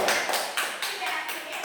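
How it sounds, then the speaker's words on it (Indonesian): A classroom of students applauds their group's presentation, a quick burst of bright, scattered clapping with a few louder swells, fairly close and brief. "Tepuk tangan untuk kelompok satu."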